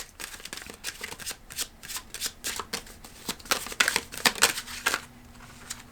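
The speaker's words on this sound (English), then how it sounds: "We're going to pull more cards, though, to get more information on that." Tarot cards shuffled repeatedly by hand in a brisk, uneven rhythm of riffling bursts, close and fairly clear, growing busier toward the end with no one talking.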